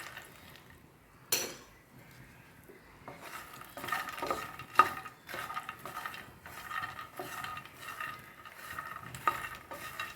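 Dry fruits being stirred in hot ghee with a spoon in a pan, repeated scraping and clinking strokes over a soft sizzle, close and fairly quiet, with no voices.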